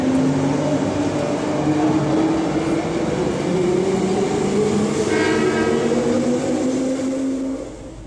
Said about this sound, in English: The aforementioned Trans WA Australind train passes on platform 2 with a service to Bunbury